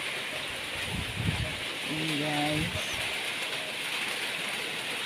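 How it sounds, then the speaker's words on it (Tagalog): Heavy rain hisses in a steady, broad wash throughout, with a brief spoken word and some low rumbling underneath. "Napabalikwas ako ng bangon sa lakas ng ulan."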